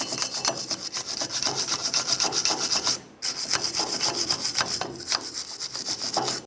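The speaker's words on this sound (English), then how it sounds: "So I'm going to use a wire brush." Steady rapid scrubbing of a wire brush against a metal rear axle hub of a Ford E-350 Super Duty, harsh and rasping, with one short pause midway.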